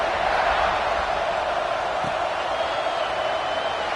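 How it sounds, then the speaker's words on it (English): A football stadium crowd buzzes after a score, a broad, steady roar of many distant voices holding at an even level throughout, with no single voice standing out. "this crowd is buzzing after that last score"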